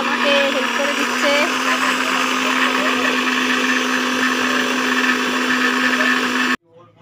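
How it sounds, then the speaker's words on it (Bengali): A kitchen mixer grinder whirs loudly and steadily while grinding onion, a close continuous motor drone that cuts off abruptly near the end, followed by brief quieter sound. "এখানে পেঁয়াজ মিক্সিতে হয়ে গেছে গ্রাইন্ড করা"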